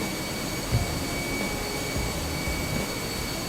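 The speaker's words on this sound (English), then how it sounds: "Why is that engine still spinning?" A jet engine on a Fenix A320 in Microsoft Flight Simulator keeps spinning after shutdown, a steady whining roar with high tonal hums that stays constant and fairly loud throughout.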